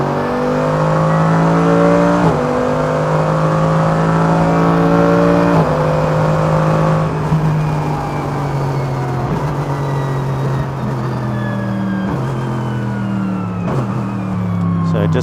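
A Mercedes AMG GT3 race car engine revving hard on the Wuhan circuit and climbing through gears, pitch rising then dropping at each shift, loud and close throughout.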